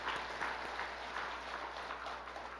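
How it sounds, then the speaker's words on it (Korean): Sustained applause from a church congregation, a dense, even patter of clapping that fades slightly toward the end. "박수 한번 하시고"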